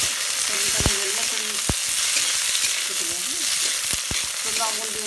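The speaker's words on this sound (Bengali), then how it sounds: "সাদা তেলের মধ্যে সবজিটা ভেজে নেব।" Vegetables with capsicum and cashews frying in white oil, a loud continuous sizzle close up, broken by a few sharp clicks and scrapes of stirring.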